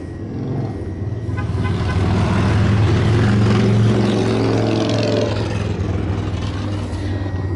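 A 2015 RAM 3500 Longhorn crew cab pickup fired up by remote start: the engine catches, swells to a loud rumbling idle, then settles into a steady low drone, with no talking.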